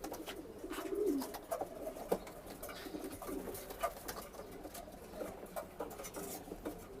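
Racing pigeons coo softly in a loft, with scattered rustling and patter from the birds over a steady background hum.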